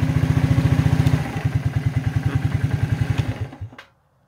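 A 1992 Suzuki Quadrunner 300 ATV engine idling on choke after months of sitting, a close, fast, even chugging thump that shuts off and cuts to silence near the end.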